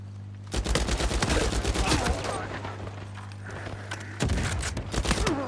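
Gunfire from Uncharted 4 multiplayer crackles in rapid bursts, dense volleys at the start and again near the end, with a steady game hum underneath and a player talking lightly over it.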